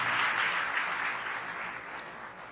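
An audience at a satsang gathering at a resort claps to welcome a minister, a broad wash of applause that is strongest at first and fades gradually over a couple of seconds.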